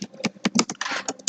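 Typing on a computer keyboard while entering text into a Microsoft PowerPoint slide: a quick, uneven run of close, crisp key clicks with no voices.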